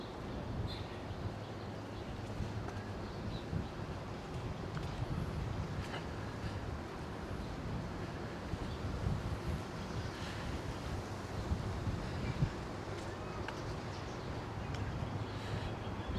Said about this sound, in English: that wind is starting to pick up